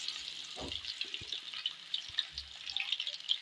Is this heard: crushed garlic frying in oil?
yes